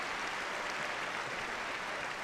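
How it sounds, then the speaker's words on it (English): Audience applause at Crufts 2013 for a Pets As Therapy dog runner-up, a dense, even wash of clapping from a large crowd, fairly distant and steady throughout. "It will be nice to give Tuppence a big round of applause, though, for one of the 5 runners-up."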